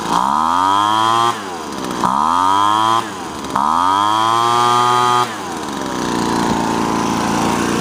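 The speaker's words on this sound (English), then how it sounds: "We'll go ahead and gun it up here again." Sears Craftsman leaf blower's small two-stroke engine revving loud and close, surging up in three hard bursts with brief drops between them before settling into a steadier roar.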